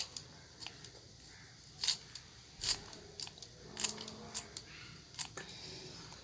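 Banana flower layers are snipped with a knife or scissors in a quiet kitchen, giving a series of faint, crisp cuts in an irregular rhythm, with no talking.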